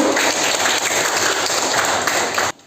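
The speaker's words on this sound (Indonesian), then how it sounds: "Tepuk tangan dulu untuk teman-temannya" Classroom students clapping for their classmates, a brief burst of loud, dense applause that stops abruptly near the end.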